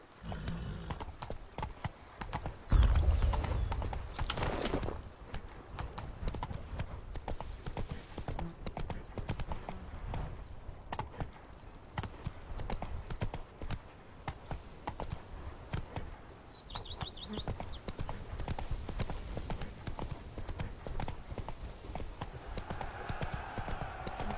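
Roach, a horse in The Witcher 3: Blood and Wine, clip-clops along in a steady, continuous hoof rhythm, close and fairly loud, with a brief heavier burst near the start.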